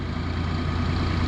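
A farm tractor engine runs steadily close by, a constant low, heavy diesel rumble with no breaks and no voices.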